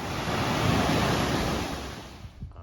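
Sea waves break on Sykias Beach in Sithonia, Halkidiki, a loud, close rush of surf that swells and then slowly fades, with some wind and no voices.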